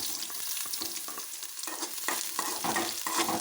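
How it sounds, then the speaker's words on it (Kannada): Green chillies and carrot fry in hot oil for masala Maggi, a steady close sizzle broken by repeated scraping stirs of the pan, with no voices. "ಎಣ್ಣೆ ಕಾದ ನಂತರ ಮೊದಲಿಗೆ ಹಸಿಮೆಣಸಿನಕಾಯಿ ಹಾಕಿ ಹುರಿಯಬೇಕು."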